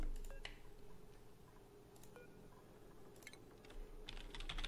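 Quick keypad taps on a phone, a few sparse clicks and beeps spread over a few seconds against a quiet background.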